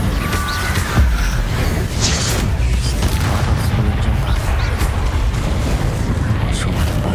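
Incendio fire spell cast in Hogwarts Legacy, loud roaring whooshes and booming bursts of flame layered with game effects, with a voice speaking over the combat.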